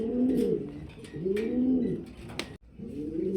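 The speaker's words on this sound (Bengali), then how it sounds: "কবুতরের কোয়ালিটি দেখেন" Pigeons at a breeding farm cooing close by in repeated low, rolling phrases, three distinct coos with faint chirps and rustles between them.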